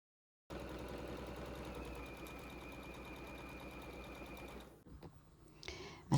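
A sewing machine chain-sews fabric strips, running in a steady, even whir for several seconds before slowing and stopping, followed by a brief clatter.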